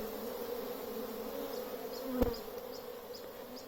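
A wild honeybee swarm hums steadily as it enters a hive over a white sheet, a dense close buzz of many insects, with one brief louder knock partway through.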